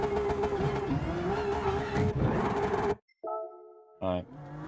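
A race car in Gran Turismo 7 roars loudly and steadily for about three seconds while braking, then cuts out abruptly; after a brief gap come a steady tonal hum and a short, sharp rev burst near the end, with no talking.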